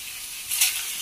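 Potatoes fry dry in a little oil with a soft, even sizzle that swells briefly in the middle, close by and alone.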